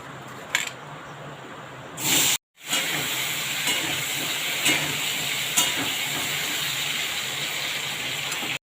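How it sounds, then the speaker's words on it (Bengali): Potato pieces coated in turmeric and salt fry in hot oil with a steady, loud hiss and sizzle, broken by one brief silent gap, with a few sharper crackles along the way. "তার সাথে আমি আলু এবং হলুদ লবণ মাখিয়ে এটাকে ভালো করে ভেজে নেব তেলে"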